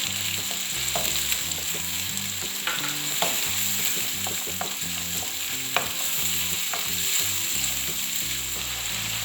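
Tomatoes with ginger-garlic paste fry steadily in a pan for soya meat biryani, a continuous sizzle broken by a few sharp clicks and scrapes of stirring, close and even in loudness with no talking.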